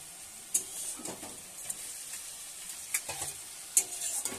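Bhola fish pieces go into a boiling tomato gravy, a soft simmering hiss broken by a few short splashy plops and clinks as pieces are dropped in, close and fairly quiet, with no talk.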